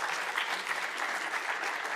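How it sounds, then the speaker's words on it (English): Audience applause at an award ceremony during a university summit showcase, a dense, even wash of clapping that holds steady throughout, moderately loud with no talking. "A round of applause for Tai Gao."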